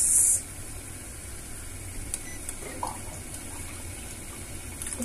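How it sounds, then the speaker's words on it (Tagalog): Water is poured into a cooking pan of igado, an Ilocano dish, making a soft, steady rushing hiss that stays fairly quiet and even throughout after a brief louder start. "lagyan natin ng tubig, then simmer for 30 minutes."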